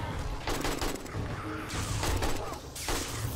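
Rapid gunfire from the video game 7 Days to Die during a blood moon night, bursts of shots clustered into loud sustained volleys with short gaps between them, close and harsh.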